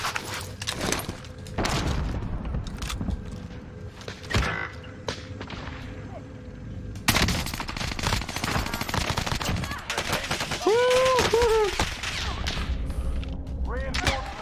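Sniper and other gunfire crack out in the Warzone video game, with scattered shots and bursts over busy in-game noise and some talk, growing denser and louder in the second half.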